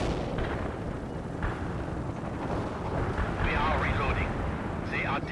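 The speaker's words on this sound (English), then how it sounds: "Artillery strike hits the enemy." Artillery strike explosions in the video game World in Conflict, heard as a rolling, rumbling barrage of booms under constant low roar, with whistling and squealing tones rising near the end.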